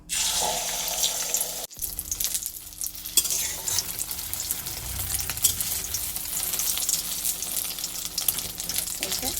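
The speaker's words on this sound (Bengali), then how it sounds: "আমি কড়াইয়ে তেল দিয়ে দিয়েছি এখন বড়া করে নেব" Steady crackling sizzle of egg fritter batter frying in hot oil in a wok, continuous and fairly loud, with occasional stirring clatter and no talking.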